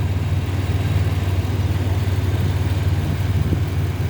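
A 2003 Ford Ranger's swapped-in 4.0L SOHC engine idles in park, cold, with a steady low rumble and even pulsing throb, close and continuous with no talk over it.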